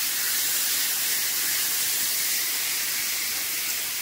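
Taro leaves frying with salt, ginger and chili in a hot pan, giving a continuous loud, even hiss of sizzling oil with no talk over it.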